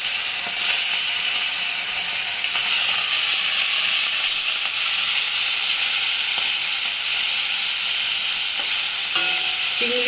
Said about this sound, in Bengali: এখন আমি মাছগুলোকে ভাজবো।